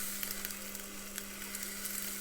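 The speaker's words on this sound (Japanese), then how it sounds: "肉の塊の油がついてた部分からじっくり焼いていきます" A bone-in pork chunk of roughly 800 to 900 grams searing fat-side down in a pot, giving a steady, even sizzle with faint crackles and a low constant hum beneath.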